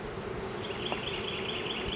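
Honey bees buzz around an open single-deep hive during a spring inspection, a steady, dense drone close by with no talking.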